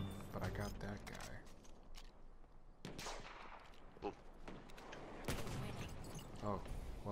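Dense gunfire from the World War I shooter game Battlefield 1, sustained bursts and sharp shots throughout with loud explosive peaks, mixed with player voices talking over the action.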